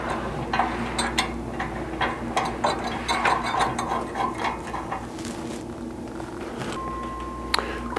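A hand ratchet tightening bumper bolts and flange nuts on a Tacoma, giving bursts of rapid clicking strokes with short pauses between, close and moderately loud against a low steady hum.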